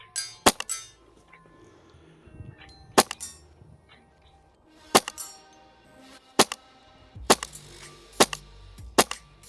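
Airsoft gun, HPA or AEG, firing single shots at targets: about eight sharp, snappy cracks spaced irregularly over several seconds, close and distinct against quiet background.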